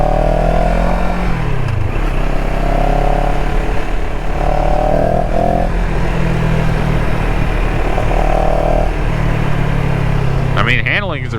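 CFMOTO CLX 700 motorcycle engine while riding, a loud steady drone with rising and falling revs and shifts, heard under a rider talking throughout.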